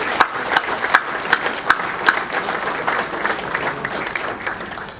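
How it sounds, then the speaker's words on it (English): An audience at a civic award ceremony applauds a city mayor, a full round of clapping from a room of people that holds steady throughout, with a few sharp, louder claps standing out near the front early on. "let's give a round of applause to Mayor Kathleen Weaver"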